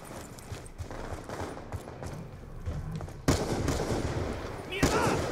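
Pistol gunfire in the video game Black Ops 2, scattered shots amid busy game noise, growing louder and denser toward the end with sharp bursts.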